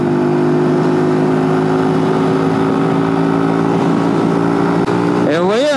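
A Benelli TNT 125 motorcycle engine holds full throttle at a steady high drone on a country road, loud and close with wind rush, then the pitch swoops as the rider shifts near the end.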